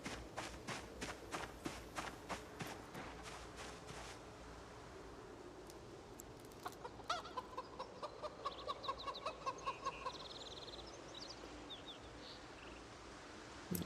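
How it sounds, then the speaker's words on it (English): Chickens in the Project Zomboid video game cluck and scratch about at low volume, with rapid clicking footstep-like taps and scattered bird calls through a soft background hiss. "Chickens are freaking me out."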